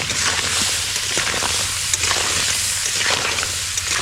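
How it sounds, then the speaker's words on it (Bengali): Crab pieces with salt and turmeric fry in a pan over a fire in the Andaman Islands, a loud, steady sizzle with occasional stirring scrapes, no voices. "তো নুন আর হলুদ দিয়ে কাঁকড়াটা এখন ভাজা হবে।"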